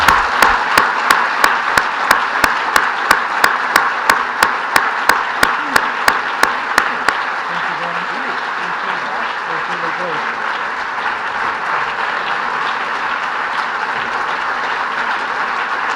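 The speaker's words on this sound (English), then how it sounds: "Let's give Paul a big round of applause." An audience applauds after an economics lecture, steady loud clapping that fills the hall throughout, with a run of sharp regular taps in the first half.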